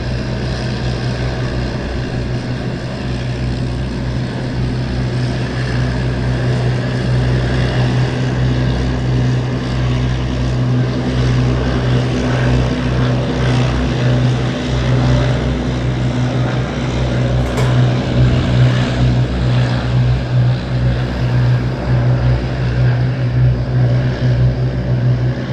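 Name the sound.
Hawker Hurricane propeller aircraft taxiing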